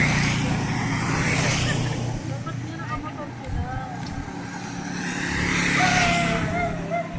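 A vehicle passing by on a road seen from a hillside walk, its engine swelling near the start and again toward the end, with people talking over it.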